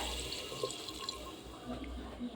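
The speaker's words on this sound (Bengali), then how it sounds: "এবার আমি জল দিয়ে দিই জলটা মেপেই দিলাম" Measured water pours into a cooking pot for an offering meal, a steady close splashing stream lasting a couple of seconds and ending on a sharp clunk.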